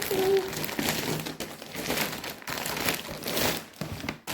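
A plastic mail parcel of online-ordered bags being torn open by hand, close-up crinkling and ripping plastic that continues in uneven bursts throughout.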